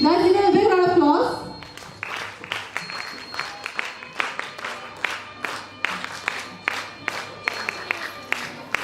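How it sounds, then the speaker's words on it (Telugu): A crowd at a National Youth Day 2024 gathering breaks into applause after a voice finishes speaking, a dense spread of hand claps with bursts of cheering mixed in, carrying on steadily and fairly loud. "Guys, give a big round of applause."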